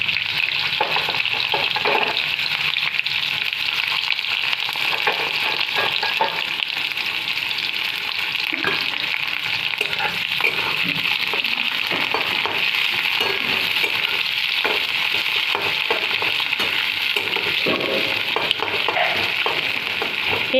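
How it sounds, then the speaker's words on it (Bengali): Onions frying in hot oil with a bay leaf and whole cumin in a kitchen pan, a loud continuous close sizzle with occasional stirring scrapes and clinks throughout, no talking. "তারপর আমি এই পেঁয়াজগুলো দিয়ে লাল লাল করে ভেজে নেব।"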